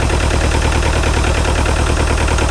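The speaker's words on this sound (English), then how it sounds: "Feels like it's running a lot better, but you can still tell it's still missing on one of those cylinders a little bit." Doosan diesel engine in a Bobcat T595 skid steer idles loudly and close, its steady throb broken by a slightly uneven pulse from a cylinder that is still missing, with no talk over it.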